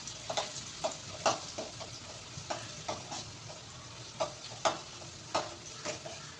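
Onions frying in oil in a pan, with soft sizzling under repeated sharp taps and scrapes of a spoon stirring at an irregular rhythm, fairly quiet and close.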